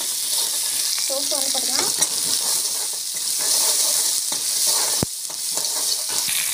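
Mustard seeds and cumin frying in hot oil in a pan, a loud continuous sizzle with scattered crackles and one sharp clack near the end, while a voice speaks briefly over it.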